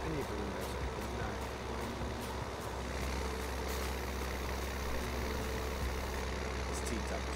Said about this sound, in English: I love the sound of the engine on this tractor.